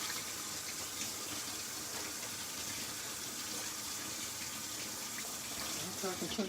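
Water runs steadily from a kitchen tap while about two cups are drawn for smothered chicken and grits, a continuous close hiss with faint kitchen clatter near the end.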